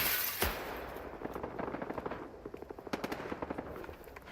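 Rapid bursts of automatic gunfire from the video game S.T.A.L.K.E.R. 2 rattle in quick succession after one sharp opening shot, moderately loud and continuous.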